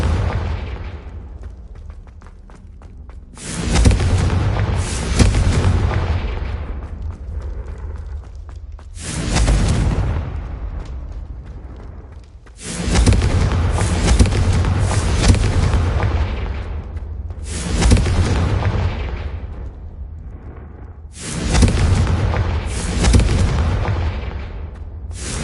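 Spell blasts in the video game Hogwarts Legacy, a series of loud booming explosions with crackling, rumbling tails, five or six bursts separated by short quieter gaps.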